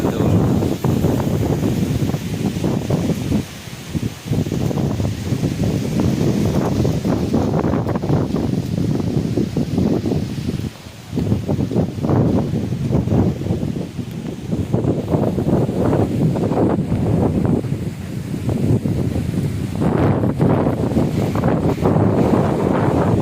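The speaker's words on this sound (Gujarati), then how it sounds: "વરસાદ બિલકુલ આવ્યો નહીં, પવન જબરજસ્ત આવે।" Strong storm wind blowing outdoors in rural Gujarat during a rainless summer gale, buffeting the microphone in loud, continuous rumbling gusts that surge and ease over about twenty seconds.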